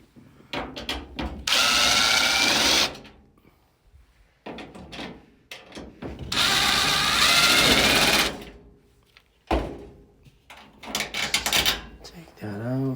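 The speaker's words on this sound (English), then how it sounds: "So to remove that, you're gonna have to take the screws." A power drill removes screws from the top of a GE dryer in several loud whirring bursts of one to two seconds, separated by quieter handling sounds.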